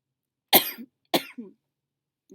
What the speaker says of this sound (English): it's so unattractive when people cough